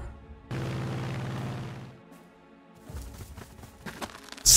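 In the Panzer Corps 2 war game, a unit is shot down: a sustained rumbling blast runs for over a second, then quieter rumbles and crackles follow before a sharp, loud burst at the very end.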